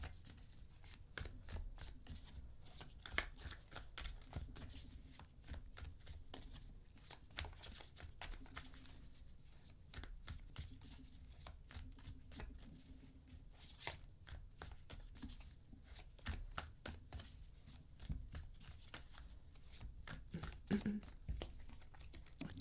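A Light Seers Tarot card deck is shuffled by hand, a quiet, rapid run of papery riffles and taps repeating steadily throughout, close to the listener.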